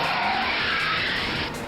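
A bus swerves with its tires skidding in one loud, continuous screech lasting over a second before it drops off slightly, close by and with no voices over it.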